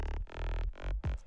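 Sub bass layered with a very simple, gritty synth bass, playing sustained notes together in a short electronic dance phrase, loud and alone with no talking.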